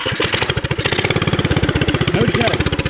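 A Subaru engine on a Yerf Dog off-road go-kart idles with a steady, rapid, loping putter, close and fairly loud, without speech over it.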